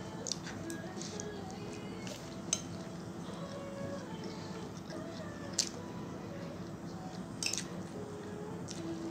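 A family lunch of chicken lemon, with soft chewing, squishy bites and the occasional clink of cutlery on plates, quiet and close, under low murmuring voices.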